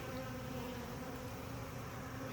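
A honeybee swarm buzzes steadily around a single hive frame held up in the air, a dense, continuous hum that is loud and close with no pauses and no voices.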